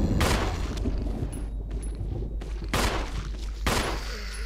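Gunshots in the Resident Evil Remake video game, three loud sharp blasts spaced about a second apart, each with a booming tail over a steady low background rumble.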